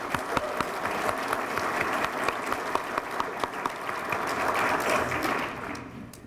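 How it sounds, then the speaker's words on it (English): An audience at a retailer awards lunch at San Diego Comic-Con applauds with a steady, full round of clapping that swells slightly before tapering off at the end. "So let's give them a round of applause."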